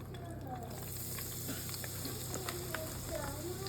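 Shrimp fry in hot oil with a constant dense sizzle and crackle, close and steady throughout, while faint voices sit underneath.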